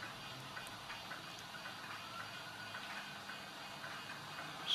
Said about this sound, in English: So that motor works.